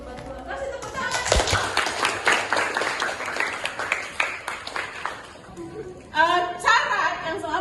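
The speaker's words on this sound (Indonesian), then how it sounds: "Kasih tepuk tangan." A group claps steadily for several seconds, a dense patter of applause with voices mixed in.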